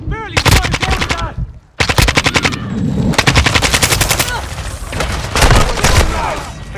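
Automatic gunfire from Call of Duty: Modern Warfare 2 multiplayer, loud bursts of rapid machine-gun fire broken by a short pause near two seconds, with booming impacts and a dense battle din.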